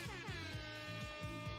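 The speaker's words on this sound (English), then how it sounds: "Air horn" An air horn blasts in a steady, loud tone, with rhythmic low pulses beating under it across the short burst.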